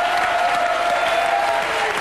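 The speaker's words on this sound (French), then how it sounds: "je vous demande d'applaudir Moïse." Studio audience applause on a French TV show, dense and steady clapping at close range throughout, with cheering blended into the sustained roar.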